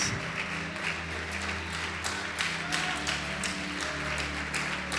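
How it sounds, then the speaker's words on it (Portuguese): A church congregation claps over a low, sustained musical drone, the applause fairly soft and scattered with irregular sharper bursts throughout. "Pode aplaudir, adorar e glorificar a Deus"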